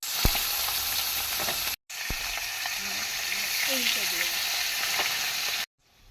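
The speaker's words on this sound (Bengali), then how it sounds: "এবার এই মাছগুলো ভাজা হবে।" Fish sizzling in hot oil for a home-style curry, a steady broad crackle running nearly throughout with two brief silent gaps, close and fairly loud, with faint stirring scrapes and no talk.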